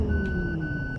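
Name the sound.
bus reversing beeps in Bus Simulator Ultimate, a video game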